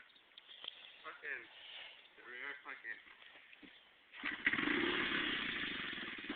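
A dirt bike engine starts and revs up near the end, a rough buzzing roar that follows several seconds of people talking nearby.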